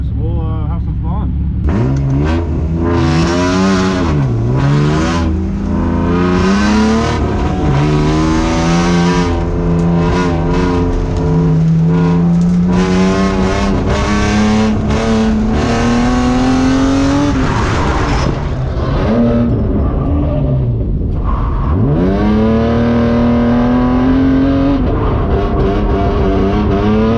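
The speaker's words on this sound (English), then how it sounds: "Two NA powered cars that are really loud" A naturally aspirated BMW E36 and a Lexus IS300 drive hard on a track, their loud engines revving and rising in pitch through long pulls with brief lifts between gears, close and continuous.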